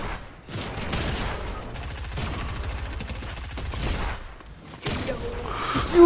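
Rapid automatic gunfire in a shooter video game, long bursts of fast repeated shots broken by short pauses and a louder blast at the end, loud and close.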